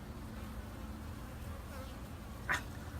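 Bees buzz around a beehive during an inspection, a continuous low drone close by with one louder bee passing near the end.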